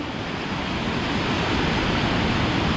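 Sea waves surge and break continuously on a beach at Dzhemete near Anapa, a loud, steady wash of surf under whitecaps with no voices.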